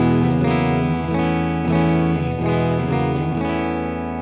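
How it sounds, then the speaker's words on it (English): Clean electric guitar through a Boss Katana amp plays a short passage of several struck chords, each ringing briefly into the next, close and steady with no talk. "Katana sounds like this."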